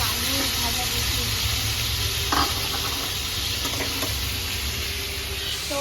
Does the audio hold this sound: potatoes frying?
yes